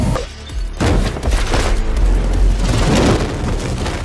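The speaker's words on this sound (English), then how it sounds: "various CG elements have been added in terms of fire and explosions and embers" Cinematic CG explosions and roaring fire in a superhero action film, a sudden loud boom followed by sustained rumbling blasts and crackling debris, dense and continuous with no speech.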